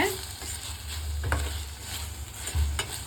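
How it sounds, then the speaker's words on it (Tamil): Tomato and onion for sambar sauté in a pan, with a soft, steady sizzle close by and two or three thumping scrapes of a spoon stirring against the pan. "இந்த சாம்பாருக்கு முதல்ல தக்காளி வதக்கிட்டு அப்புறமா வெங்காயம் போடணுங்க"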